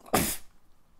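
One sharp sneeze, loud and close, bursting out and fading quickly into quiet room tone.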